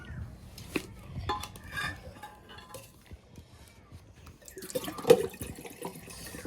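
Hands are washed under running water at home after a meal, with trickling and splashing, scattered drips and occasional clinks of dishes nearby, fairly close and quiet.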